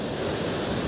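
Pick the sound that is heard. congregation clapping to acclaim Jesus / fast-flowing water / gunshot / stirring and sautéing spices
fast-flowing water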